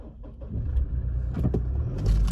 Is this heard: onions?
no